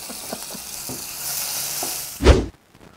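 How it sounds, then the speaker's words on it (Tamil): Garlic hits a hot pan with a steady sizzle and frying hiss, swelling into a sharp, loud burst of crackle near the end before cutting off abruptly; no one speaks. "சூப்பராக இது மெத்து மெத்துன்னு பூண்டு சேர்க்குறோம்"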